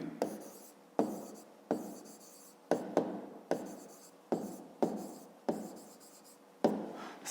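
Pencil writing a word on paper, with about ten quick distinct scratchy strokes in an irregular rhythm, close and fairly loud, no voices.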